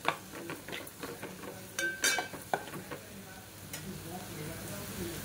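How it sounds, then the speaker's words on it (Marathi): Spice masala frying in oil with onion and tomato for sev bhaji, giving a soft sizzle under irregular clicks and scrapes of a spoon stirring in the pan, fairly quiet and close. "तेलामध्ये मसाला टाकल्याच्या नंतर छान असं परतून घ्यायचंय"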